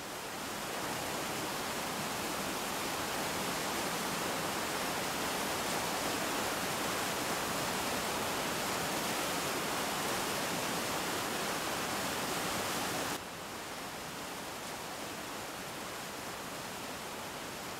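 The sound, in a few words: waterfall and hot spring water flowing in a spring valley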